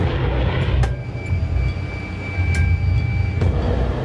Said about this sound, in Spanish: 2 F-16 han sido enviados a interceptar el avión renegado.